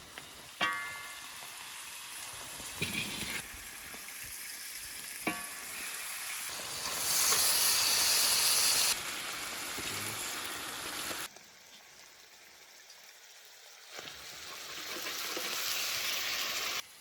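Goose meat frying in a pan with onions: steady loud sizzling and spitting that swells and eases as the meat goes in and is stirred, with occasional clinks of a utensil and no talk.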